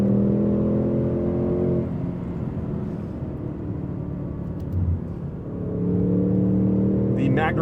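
A 2024 Ford Mustang GT with a manual gearbox and the Performance Pack, traction control off, is driven hard through curves, its V8 droning loudly and steadily inside the cabin and easing off briefly mid-way before building again.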